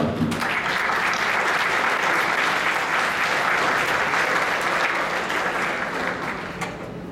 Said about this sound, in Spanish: Demos por favor un aplauso